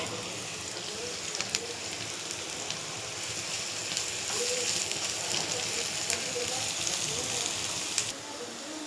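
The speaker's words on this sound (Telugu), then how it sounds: "ముందు క్యాబేజీ ఇవన్నీ వేసేసుకొని ఫ్రై చేసేసుకుందాం." Shredded cabbage frying in a hot pan for egg chapati rolls, a steady close sizzle and crackle holding through the whole stretch with a few sharp pops, growing slightly fuller midway.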